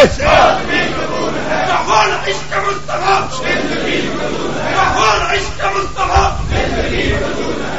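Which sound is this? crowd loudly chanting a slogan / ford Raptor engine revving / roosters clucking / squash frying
crowd loudly chanting a slogan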